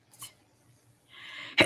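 A single sharp sneeze bursts out loud and close near the end, after a brief rising inhale, on an NFL free agency live talk show; a fainter puff comes earlier.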